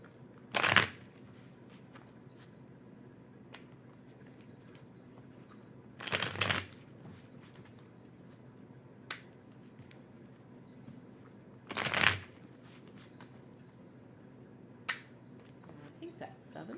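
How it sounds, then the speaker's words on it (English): A deck of oracle cards is shuffled in three short, crisp riffling bursts about six seconds apart, close by in a quiet room, with faint handling sounds in between. "Now let's get these back and shuffle them again."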